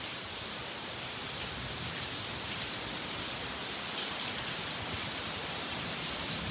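Steady rain falling during an outdoor walk, a dense continuous hiss of drops on surfaces that stays even and fairly close throughout, with no voices.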